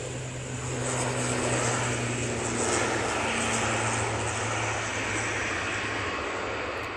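Steady roar of a Singapore Airlines Airbus A350-900 at Manchester Airport, a broad sustained engine rumble at moderate distance that swells slightly and holds for several seconds, no talk over it.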